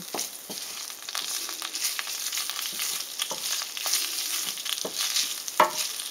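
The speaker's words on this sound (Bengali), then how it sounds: "ভালো করে খুন্তির সাহায্যে ভেজে নিচ্ছি আদা বাটাটা" Ginger paste fries in a pan over medium flame, stirred with a spatula, giving a soft constant hiss broken by repeated scraping strokes, close up and without speech.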